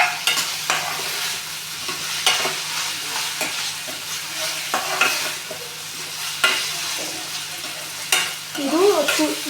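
Onion, ginger, garlic and tomato frying in a pan for spicy sev tamatar sabji, with a spatula stirring and scraping in repeated strokes over a continuous close sizzle, no voices.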